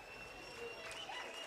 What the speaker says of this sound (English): They've been cheering pretty much all night long here.